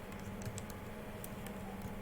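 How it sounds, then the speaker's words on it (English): Soft, quick keyboard typing while writing HTML code, a faint scattered run of light key taps over steady background hum, with no talking. "sorry, I just type"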